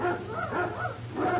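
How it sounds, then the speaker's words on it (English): Hounds at a castle barking, heard as two or three yelping barks in quick succession over a low background hum, with no speech. "Quiet those hounds. They annoy my attorney."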